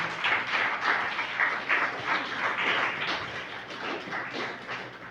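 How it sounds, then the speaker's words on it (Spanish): A church congregation claps together in a moderately loud, somewhat rhythmic burst of applause lasting about five seconds. "Den un aplauso"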